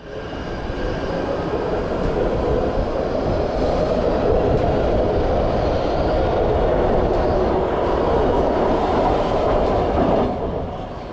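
A Baltimore Metro Subway train rumbles loudly and steadily through Reisterstown Plaza elevated station, with a constant roar of wheels and a faint squeal throughout.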